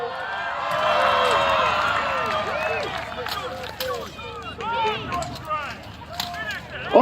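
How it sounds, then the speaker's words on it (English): A crowd of spectators at a 14th-century-style medieval tournament, cheering and clapping in a broad swell that gradually settles into scattered shouts and applause. A commentator's voice carries over the crowd. "You need to give them a bit of a cheer."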